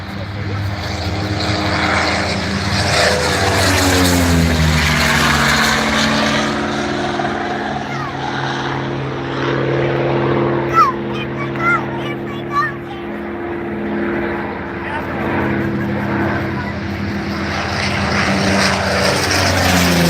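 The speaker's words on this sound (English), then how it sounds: "Here comes our first Sea Fury," Sea Fury propeller fighter at an airshow, a loud droning radial engine roar with a shifting pitch as the aircraft passes, heavy and sustained throughout, with crowd noise underneath.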